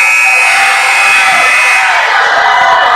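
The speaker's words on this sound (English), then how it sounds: "But you guys can hear the crowd?" A packed high school gym crowd at a district quarterfinal boys' basketball game roars loud and sustained, with a buzzer-like tone blending into the din as the game heads to overtime.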